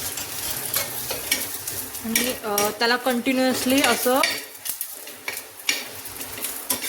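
Chopped coconut roasts with a little oil on a very hot griddle, sizzling steadily while a utensil scrapes and stirs it, and someone speaks briefly over the frying.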